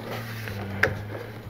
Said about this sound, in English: it was pressed in with clips, so you want to make sure it pops back in place.